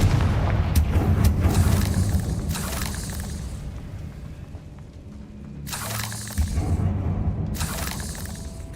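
A Confringo fire spell bursts in a Harry Potter video game, heard as a couple of sharp blasts with booming low rumble, near and loud over ongoing game ambience.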